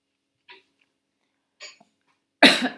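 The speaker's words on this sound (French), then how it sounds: "Pardon, excusez-moi, je tousse." Two faint short sounds come first, then a single loud, close cough after a pause.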